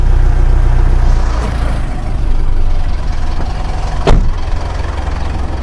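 A 2014 Mitsubishi Strada Triton Exceed VGT 4x4 diesel engine idles steadily and close after starting, a low constant rumble with one short sharp click near the end.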